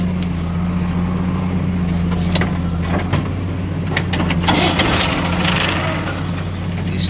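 A tractor loaded with soil runs at a steady, low idle-like throb close by, its engine drone constant for the whole stretch with no voices over it.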